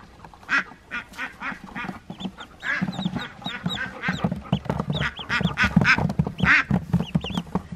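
A mother duck quacking repeatedly near a brood of newly hatched ducklings on a farm, loud close quacks coming in uneven runs with soft background noise.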